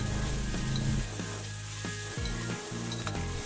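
Food sizzles and fries steadily in a pan while it is stirred with seasonings such as sugar and flavor enhancer, with soft scraping stirs under a continuous loud hiss and no talking.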